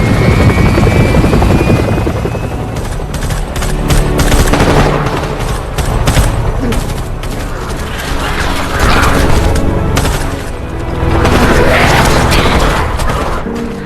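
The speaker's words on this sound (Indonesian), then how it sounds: "Tiba-tiba helikopter penyelamat datang dan menembaki geng zombie" A loud rescue helicopter in a zombie film, with heavy thudding rotor noise close overhead, mixed with rapid bursts of gunfire and booms throughout.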